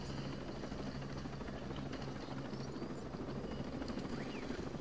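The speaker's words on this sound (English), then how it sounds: "I got a chopper, come on." A helicopter in the video game Ghost Recon Breakpoint drones steadily throughout with a constant rotor rumble and whine, close and continuous with no talk over it.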